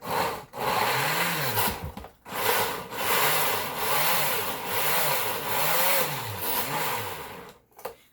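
A blender grinds strawberries loudly in repeated surging bursts, the motor pitch rising and falling as the blades churn, with a brief pause partway through.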